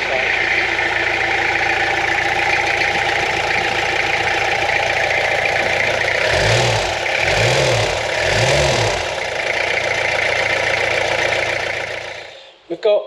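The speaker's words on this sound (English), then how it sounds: "Here we go, let's start it. First start." Restored Peugeot P4 army jeep engine running at a steady idle, a loud continuous drone with a few brief revs in the middle before it cuts off near the end, with talk likely underneath.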